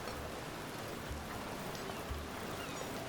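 Steady rainfall in the game Patron, a soft, even hiss of drops with occasional low patters, faint and continuous throughout with no talk.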